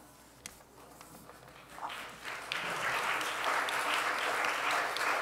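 An audience at a Sunday worship service breaks into applause, starting with scattered claps and footsteps, then swelling into loud, sustained clapping that holds steady to the end.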